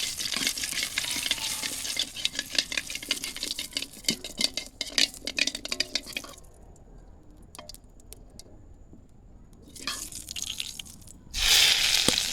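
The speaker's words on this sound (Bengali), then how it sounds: "একটা জিরে দিয়ে নিচ্ছি" Cumin seeds fry in a pan with a dense, crackling sizzle and stirring scrapes. The sound thins to quiet spatters midway, then returns in a sudden loud hissing burst.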